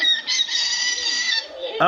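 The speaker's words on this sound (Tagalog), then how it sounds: "Ang tindi, tumitilaok mga kaibon." An African lovebird gives a long, drawn-out, rooster-like crow, shrill and wavering, close by, ending with an abrupt sharper note.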